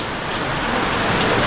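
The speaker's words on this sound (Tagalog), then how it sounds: "Ang lakas ng ulan!" Heavy rain pours down outdoors in the Philippines, a loud, dense, unbroken roar of drops drumming on surfaces close by, with no voices heard.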